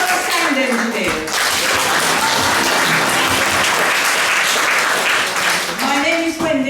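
Loud, sustained audience applause fills a theatre at the close of a show, a dense wash of many hands clapping with some crowd noise, ending in a brief dip.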